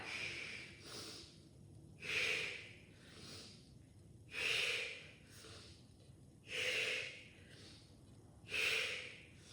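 Slow, deliberate breathing during a kundalini kriya exercise, with strong airy exhales roughly every two seconds and softer inhales in between, close and clear in a quiet room.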